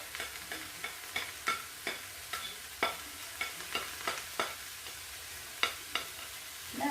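Mushrooms hit a pan already frying onions, garlic, carrots and baby courgettes, with a soft steady sizzle and repeated sharp scrapes and clacks of stirring spaced through the clip, close and quiet with no talk.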